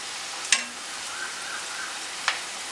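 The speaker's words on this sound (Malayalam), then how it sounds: "എല്ലാ സൈഡും ഫ്രൈ ആക്കി എടുക്കുക" Vegetable kozhikkal, a Thalassery street-stall snack, fries in hot oil with a steady, even hiss, broken by two sharp clinks as the pieces are turned about a second and a half apart.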